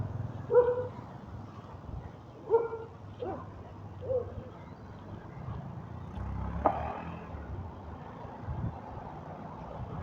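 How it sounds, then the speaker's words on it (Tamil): A dog barks several times in short bursts, approaching and barking at people near a boating spot, moderately close over steady low background rumble. "நாய் குலைச்சிக்கிட்டு வருதுங்க நம்மளை பார்த்து."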